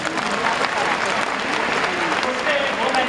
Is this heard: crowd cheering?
yes